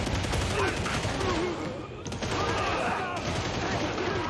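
Gunfire rattles throughout a firefight in the Warhammer 40K: Darktide video game, dense bursts of shots over a busy battle din with voices calling out.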